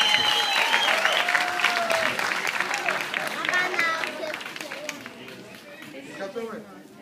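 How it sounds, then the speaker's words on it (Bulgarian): Audience applause from a crowd gathered at a marriage proposal, dense steady clapping that fills the whole stretch and fades slightly toward the end, with voices and cheers mixed into the noise. "Аплодисменты, пожалуйста."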